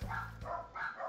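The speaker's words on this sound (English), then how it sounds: "Sorry if you guys hear barking in the background." Waffles, an excited pet dog, barks faintly in the background, about four quick, muffled yaps in a short burst.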